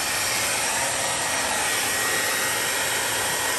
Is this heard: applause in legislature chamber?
no